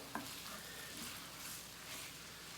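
Seasoned stuffing for a whole stuffed flounder is mixed in a warm pan, a faint soft sizzle with gentle stirring and scraping.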